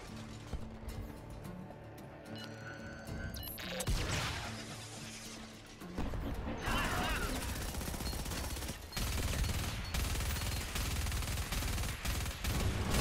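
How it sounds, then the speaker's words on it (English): Gunfire in the video game Starhawk, bursts of rapid shots and impacts mixed with other game effects and music-like tones, fairly quiet overall. "Weapons in Starhawk are diverse and powerful, and the shooting mechanics are responsive."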